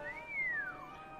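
A single wolf whistle aimed at a woman in the video game The Raven: a clear, close tone that sweeps upward, holds, then slides down and fades, with no other sound around it.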